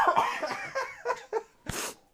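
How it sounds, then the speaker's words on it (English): A single loud sneeze bursts out near the end, preceded by a series of sharp, building breaths and snorts. "I feel like I'm going to sneeze."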